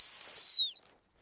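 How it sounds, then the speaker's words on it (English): A dog training whistle used with pointing dogs gives one loud, steady high-pitched blast lasting about three quarters of a second, dropping slightly in pitch at the end and then cutting off into quiet outdoor air. "There's a good stop to the whistle."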